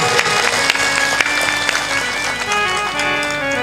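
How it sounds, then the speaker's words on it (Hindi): An audience claps loudly at a Hindi religious discourse, a dense, continuous burst of applause close by. "जोर से ताली बजाया करो, तुम ढीले आदमी हो।"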